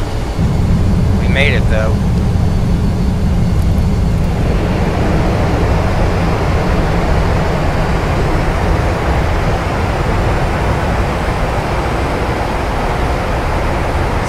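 An airliner's thrust reversers roar loudly and steadily after a hard landing, a broad continuous rush filling the rollout with no break, while crew voices speak briefly over it.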